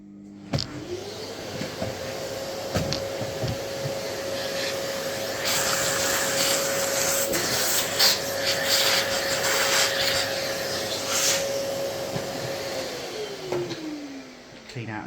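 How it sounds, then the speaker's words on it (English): A Hoover vacuum cleaner running indoors, rising to a steady loud whine after about a second, holding it, then winding down near the end, with brushing and rubbing against surfaces and faint speech underneath. "Right, then get your hoover."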